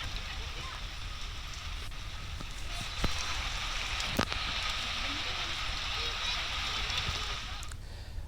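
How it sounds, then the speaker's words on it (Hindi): Heavy rain falls in a steady dense hiss, with dense fog around. The patter is continuous, with a few sharper drips or clicks, and a voice talks over it. "बारिश हो रही है और साथ ही चारों ओर से कोहरा छाया हुआ है।"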